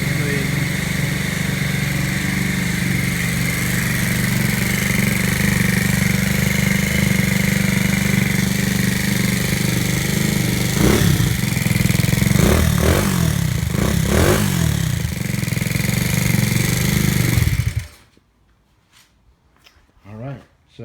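A Jinlun GY6 scooter with an upgraded 105cc big bore engine, racing intake and exhaust runs at a steady, loud idle for about seventeen seconds, with a few brief clattering blips, then cuts off into near silence.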